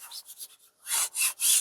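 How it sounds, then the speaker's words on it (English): Distress oxide ink is rubbed around the edges of a wooden Easter sign in short, soft scrubbing strokes, several quick light passes followed by three louder, longer rubs up close. "I'm just going to get the distressed oxide, and I'm just going to rub it and kind of like round my edges"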